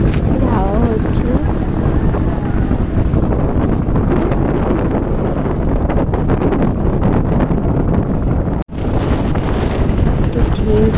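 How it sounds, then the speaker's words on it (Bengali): Strong wind buffets the microphone aboard a boat on a river trip heading toward Gosaba, a steady loud rumble with a brief dropout near the end, and voices talk over it. "হাওয়া হচ্ছিল।"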